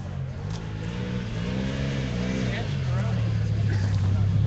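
Rally buggy running across the Sand Trap special stage of a desert rally, a steady engine drone with rising and falling pitch heard from a distance under wind, with a spectator speaking over it.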